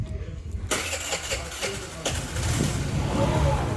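A motorcycle engine with only about 2,000 km on it cranks and catches with difficulty, then runs roughly and unevenly, sputtering and threatening to stall when the throttle is released, heard close with a voice speaking over it.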